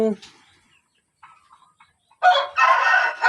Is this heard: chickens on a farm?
yes